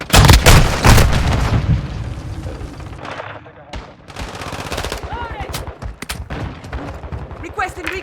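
Heavy gunfire in Call of Duty: Modern Warfare 2 multiplayer, with loud rapid automatic bursts up front, then continuing shots and booms at a distance, while in-game voices call out over the fighting.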